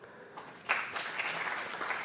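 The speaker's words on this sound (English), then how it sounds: "Please give another round of applause to Dr." Applause from a conference audience at a cancer conference session, starting with a few scattered claps and then swelling into steady, full clapping that carries on to the end.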